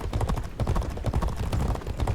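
Hooves of several racehorses pound in a fast, continuous rhythm during a race in the G1 Jockey 4 video game, close and fairly loud with no talk over them.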